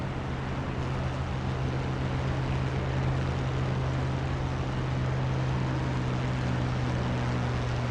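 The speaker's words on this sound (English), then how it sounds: "I hear that rumble. That must be a 47." A P-47 aircraft engine in DCS makes a steady, loud droning rumble with a low propeller hum that holds constant throughout, with no voices.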